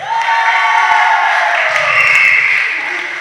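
A crowd at a badminton tournament cheering and clapping for a team, loud sustained whoops and shouts mixed with applause, fading slightly toward the end.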